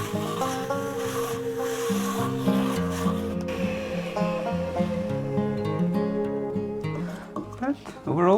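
Beeswax is pressed against a spinning wooden bowl on a mini lathe, giving a continuous rubbing, humming friction sound with tonal motor drone, close and steady, with scrapes near the end.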